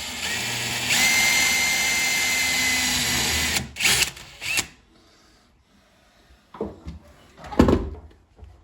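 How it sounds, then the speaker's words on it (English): A steady electric drill whirs for a few seconds while pre-drilling holes for sliding wardrobe doors, then stops, followed by clunks and brief mechanical rattles and knocks nearby. "Pre-drill them."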